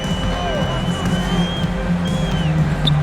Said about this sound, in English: this crowd is in awe of that Mitchell dunk